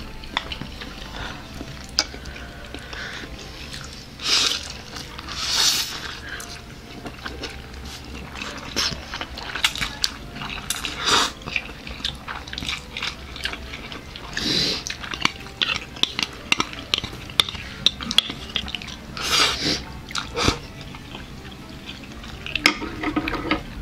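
Close-up mukbang eating of chicken barbecue and Samyang regular and cheese noodles: irregular chewing, slurping and utensil clinks against a bowl, with occasional soft talk between bites.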